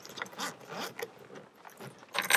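The zipper pulls on a teal travel suitcase slide and click into its combination lock, making a run of short, faint scraping and clicking sounds close to the listener.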